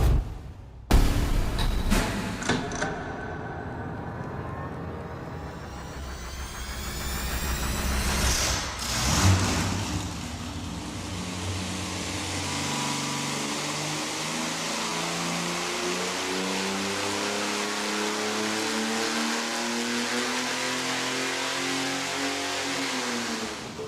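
A small 200 cubic inch Slant 6 engine on a dyno fires up and revs hard, rising in pitch, then holds a loud, steady drone under load, with a brief burst partway through.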